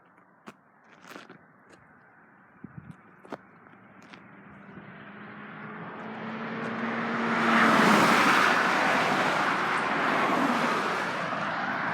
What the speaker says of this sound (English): You can hear me with the traffic.